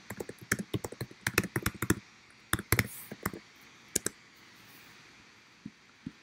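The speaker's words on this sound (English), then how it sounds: "Let me just type something in the chat." Clicky keystrokes on a computer keyboard, a quick irregular burst of close taps followed by a few scattered presses and long pauses in a quiet room.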